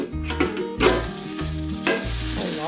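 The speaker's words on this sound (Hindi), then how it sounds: "ये बन रहा है अपना टेस्टी सा मशरूम प्योर दही की कढ़ाई में" Mushrooms simmering in a curd gravy in a kadai, a continuous close sizzle and bubbling with repeated stirring scrapes and rhythmic clatter throughout.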